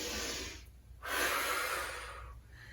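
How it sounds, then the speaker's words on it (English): Deep breaths during a full-body workout: a long inhale, then a strong forceful blow-out of air, close to the mic and heard without any speech. "Deep breath, blow it out."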